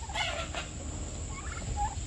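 Turkeys being raised on a small farm gobble in short rattling calls, a couple of clear bursts early and a fainter one later, heard fairly near over steady outdoor background noise with no talking.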